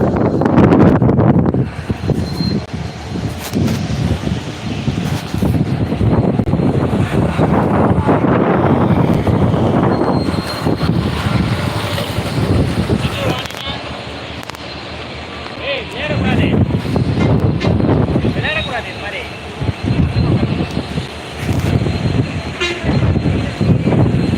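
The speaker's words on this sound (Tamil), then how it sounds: "ஒரே ஒரு ரயில் இன்ஜின் மட்டும் பாலத்தை வந்து கடந்து போக இருக்குது" A single railway locomotive rumbles slowly across the Pamban bridge, loud and continuous, with heavy wind buffeting the microphone and a horn-like tone partway through, while people talk over it.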